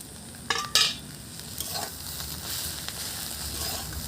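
Sesame seeds sizzling in hot oil with drumstick greens as they are stirred in a pan, a steady close frying hiss broken by a few louder scraping strokes near the start.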